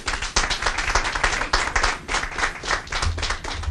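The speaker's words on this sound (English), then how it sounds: "Can we get another round of applause?" An indoor audience at a career center grand opening breaks into steady, dense applause, many hands clapping together in a continuous patter of sharp claps with no break across the whole stretch.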